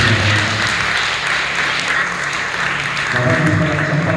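A church congregation at a Sunday revival service claps for God, a full room of hands applauding loudly and steadily, with a voice and some musical tones entering near the end.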